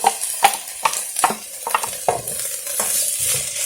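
Ground meat stirred into green and red peppers in a pan for Puerto Rican pastelon, a steady sizzle broken by repeated scraping strokes of a utensil, close and fairly loud with no talking.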